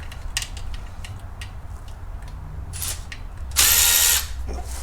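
A power tool on a Porsche Boxster loosens panel bolts in a few short ratcheting bursts, with one louder whirring spurt near the end against a quiet garage background.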